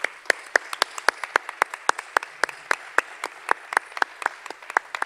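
Audience at a folk festival claps in regular, evenly spaced bursts, a bright rhythmic applause that carries steadily for several seconds with no voices over it.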